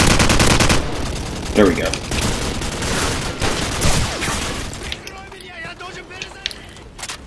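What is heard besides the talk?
AK47 gunfire in video game Call of Duty 4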